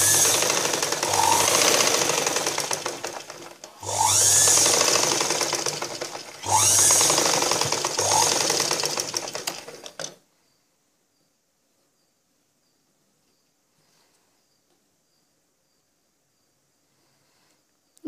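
Sewing machine stitching a cross-cut blouse, running in three loud, steady bursts of rapid mechanical whirring and clatter, each lasting about three seconds with brief pauses between, then stopping, followed by near silence.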